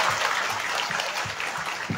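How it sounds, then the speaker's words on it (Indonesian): An audience at a large Islamic religious gathering gives a short burst of applause, a brief, even wash of many hands clapping at moderate volume, with faint low thumps underneath. "Tepuk tangan dulu buat Tatia."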